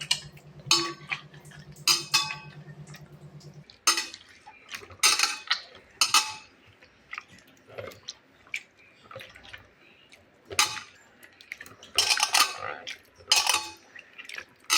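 Wet squishing and splashing as tamarind and tomatoes are mashed and stirred by hand in water, with intermittent drips and a low hum at the start.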